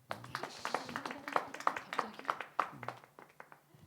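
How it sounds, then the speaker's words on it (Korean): A church congregation gives a round of applause during a Bible study gathering, a small group's quick, uneven claps heard fairly faint and close, tapering off toward the end. "우리 정무형도 박수 한번 하게요"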